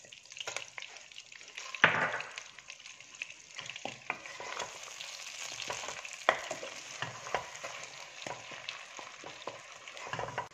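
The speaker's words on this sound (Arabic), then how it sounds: "نقلي الدجاج. نضيف الآن حبة متوسطة من البصل مفروم" Chicken pieces frying in a pan with minced onion just added, giving a steady close sizzle and hiss throughout, punctuated by stirring clatters of a utensil against the pan.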